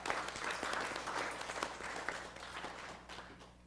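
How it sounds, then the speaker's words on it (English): Audience applause at a student media awards ceremony for a managing editor receiving an award. The clapping is steady and fairly full at first, then gradually thins and fades out. "Let's give her a round of applause"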